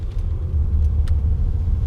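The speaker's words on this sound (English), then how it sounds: "now we're just driving down some slightly bumpier roads with the suspension in its softest setting" A Mercedes S-Class rolls over bumpy roads with its suspension on the softest setting, heard as a steady low road rumble inside the cabin, with a couple of faint brief rattles and no talking.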